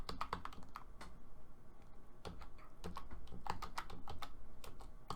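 Rapid typing on a computer keyboard, with irregular bursts of key clicks and clacks at close range and moderate volume, heard on its own with no talking.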